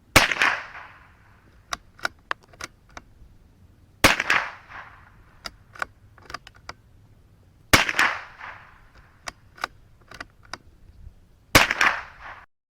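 .22LR rifle shots fired with Remington Thunderbolt ammunition, four sharp loud cracks spaced roughly four seconds apart, each trailing a brief echo, with faint clicks between.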